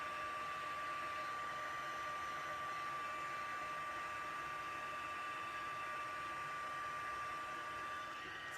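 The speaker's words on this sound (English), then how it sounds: "you should see the magic of heat embossing." A heat tool blows steadily and close by while heat embossing a slimline gate fold card, a constant hissing rush of air with a faint whine, unbroken for the whole stretch.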